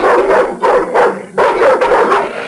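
Storybook hounds growl and bark loudly in a continuous, snarling run with short breaks, a sound effect from a Batman & Robin interactive moviebook.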